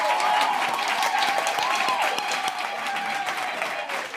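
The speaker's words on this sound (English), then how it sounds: "let's give them another round of applause." A round of applause from the crowd at a University of the Free State Africa Month event on the Qwaqwa campus, with steady, fairly loud clapping and a tonal hum or voices faintly underneath.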